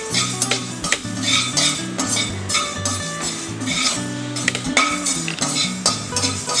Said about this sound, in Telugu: 1 స్పూన్ మెంతులు వేసానండి. కొంచెం వేగిన తర్వాత ఆవాలు వేద్దాం.